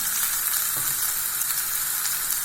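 Onions fry in a pan with vegetables such as beans and carrots for egg fried rice. A loud, steady sizzling hiss runs without pause and without voices.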